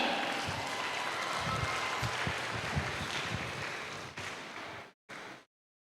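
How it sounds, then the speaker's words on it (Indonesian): An audience at an international seminar claps for the panelists, a dense wash of applause that holds steady, then breaks off abruptly near the end. "Ayo, beri tepuk tangan buat panelis kita."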